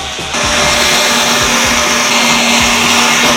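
A Ryobi USB power scrubber motor switches on after a brief click and keeps running, a close, steady high whine with a constant hum and no talking.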